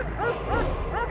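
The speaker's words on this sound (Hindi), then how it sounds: "क्यों भौंक रहा है?" A dog barks and yips in a few quick, whiny bursts nearby, with a steady low hum underneath.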